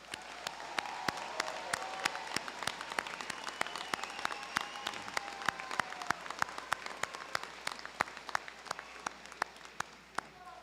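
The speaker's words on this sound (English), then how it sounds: "Let us now please applaud these graduates." Commencement audience at the 57th Terra State graduation applauding honor society graduates, a steady wash of clapping with sharp individual claps standing out throughout, sustained from start to finish.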